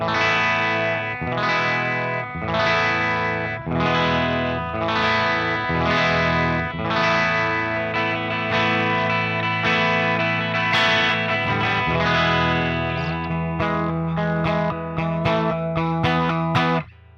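Electric guitar plays continuously through a warm, distorted tube amp with a chorus-like shimmer: strummed chords and riffs, loud and close, with no talking.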